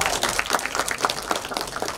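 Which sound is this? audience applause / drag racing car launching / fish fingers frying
audience applause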